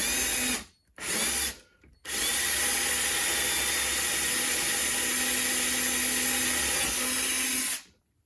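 A power drill bores a hole through a wooden cornhole board, starting with two short bursts and then one long steady whine lasting several seconds before stopping.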